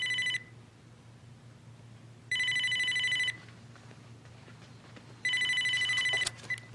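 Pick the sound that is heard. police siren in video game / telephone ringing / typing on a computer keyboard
telephone ringing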